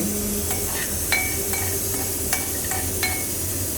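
Cashews frying in a pan for payasam, a steady soft sizzle with a few light clinks of a spoon stirring, close and alone without talk.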